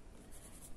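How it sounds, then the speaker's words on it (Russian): A coloured pencil shades across paper, a soft, quiet scratchy rubbing heard close up in short continuous strokes. "Цветным карандашом немножко проработаем"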